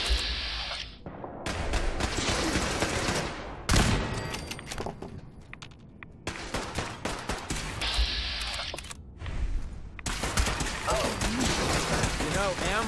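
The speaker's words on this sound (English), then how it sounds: "Opening fire." Gunfire in Fallout 4: repeated bursts of loud, sharp shots in rapid volleys separated by brief lulls, close and punchy, with a voice talking in between.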